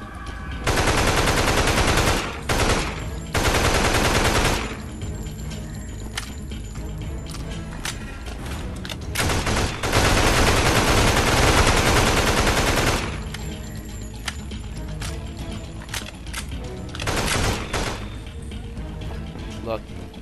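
Loud, sustained automatic gunfire fills a zombie shooter video game, with long dense bursts broken by short pauses and isolated shots, and voices talk in between.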